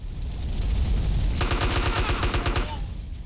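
Rapid bursts of gunfire in GTA San Andreas, a dense volley of repeated shots rattling for over a second over a steady rumbling game backdrop, loud and close.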